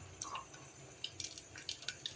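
Mustard seeds, cumin and fenugreek splutter in hot oil in a kadai while sambar is being cooked, giving faint scattered pops and crackles at an irregular pace.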